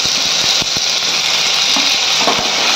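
Browned onions sizzling in a frying pan as chopped tomatoes go in, a steady loud hiss with a few soft clicks and stirring taps throughout.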